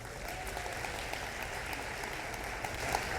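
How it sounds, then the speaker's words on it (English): Steady applause from an audience at a 2016 opening day gathering, honoring a former class member, sustained and fairly even with a few sharper claps standing out, no talking over it. "give Anna from Liberty a round of applause"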